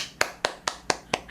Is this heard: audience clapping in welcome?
yes